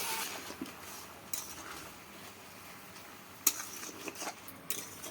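Mixed vegetables stirred in a pot, a low simmering hiss with scattered scrapes and clinks of a spoon against the metal, quiet and close with one sharper knock midway.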